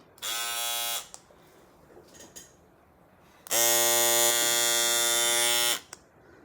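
A GERTZY men's electric trimmer buzzes close by while trimming nose hair, first in a short burst and then in a longer, steady run, with quiet pauses between.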